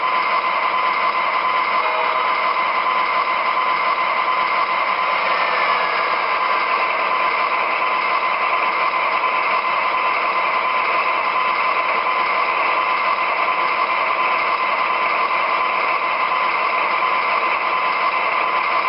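An MTH RailKing Canadian National ES44AC model diesel locomotive runs as a steady, loud mechanical drone with a high motor whine and no break or talk from start to end.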